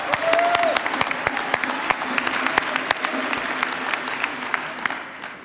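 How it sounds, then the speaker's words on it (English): An audience claps steadily with many sharp individual claps throughout, fairly close and loud, with a faint crowd murmur underneath. "Give him a round of applause."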